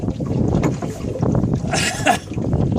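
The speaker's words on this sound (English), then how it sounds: "I'm having to row all the way back up the lake" Oars work a small boat on a lake after its engine failed to start, giving irregular splashing and knocking under gusty wind noise on the microphone.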